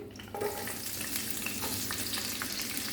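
Onions hit hot oil with a burst of sizzling that settles into a steady, crackling fry, close and moderately quiet.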